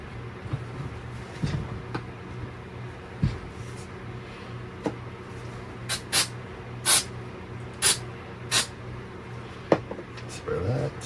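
Spray paint hisses onto a 3D-printed Super Mario part in a series of short, sharp bursts spaced about a second apart, loud and close after a stretch of quieter handling noise.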